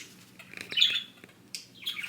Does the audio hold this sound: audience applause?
no